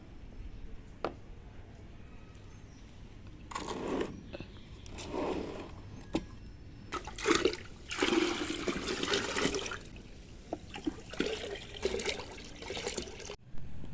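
Liquid fertilizer splashing and pouring in bursts as it is stirred into water, with sloshing and trickling between quieter pauses.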